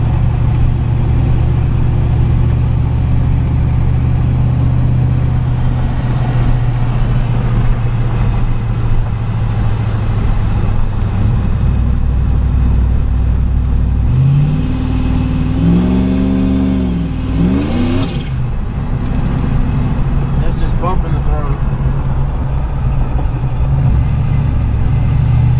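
A supercharged Chevrolet Trailblazer SS with a Procharger cruises, its engine droning loud and steady throughout, with a few rising throttle sweeps and a brief dip partway through.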